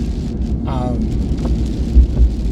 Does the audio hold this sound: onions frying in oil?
no